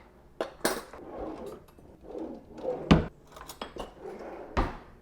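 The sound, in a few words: big spoon scooping coconut oil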